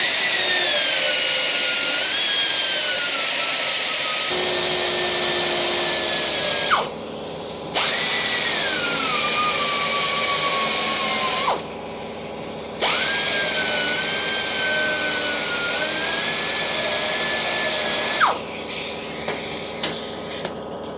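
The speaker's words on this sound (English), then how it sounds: "So I think we'll get the belt grinder on the rest of it." A belt grinder takes metal down on a motorcycle bobber build, loud close whining runs broken by brief pauses, each pass rising and falling in pitch, with no talk.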